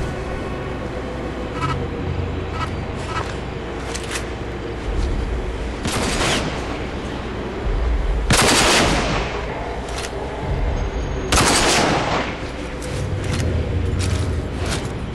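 Enemy gunfire in RAGE ringing out in Dead City, scattered sharp cracks and a few heavy bursts over a steady background rumble, some shots loud and close, others more distant.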